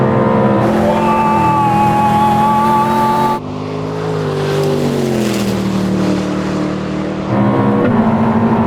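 A Koenigsegg screams past at top speed in a desert race, its engine a loud, sustained high-pitched roar that shifts in pitch as it gears up and passes close by, with no talking over it.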